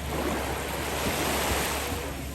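Continuous surf washes in at Manza Beach, Okinawa, a steady full roar of waves with faint wind noise and no talking.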